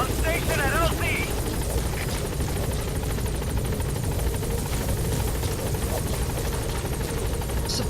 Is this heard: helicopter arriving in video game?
yes